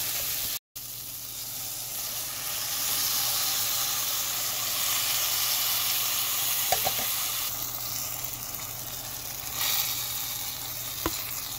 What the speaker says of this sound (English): onion and garlic are in, ground beef is in. I'm going to dump the envelope and just give it a cook.